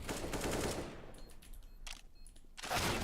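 Bursts of AK rifle fire in the game Counter-Strike, rapid sharp shots in several short clusters with brief gaps between them, fairly loud and up front.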